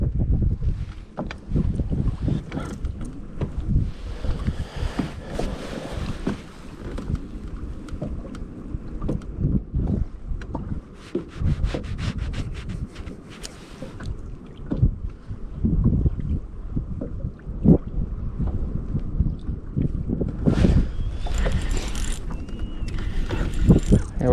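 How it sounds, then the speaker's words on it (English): Wind buffets a fishing boat out on the water during early-winter crappie fishing, a steady loud rush with gusty bursts and some knocking of hull and gear throughout, no voices. "Hard to hold position with the wind."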